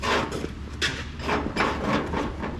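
A homemade wire choke cable is pried off a 1937 Case Model C Zenith carburetor, giving close, irregular metallic scrapes and knocks spread across a few seconds.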